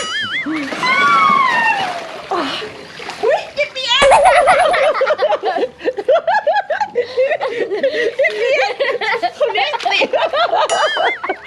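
Water splashes and sloshes during playful bathing with plenty of water, mixed with children's chatter, chuckles and laughter throughout and a brief ding-like tone; the splashing is fairly close and busy under the voices.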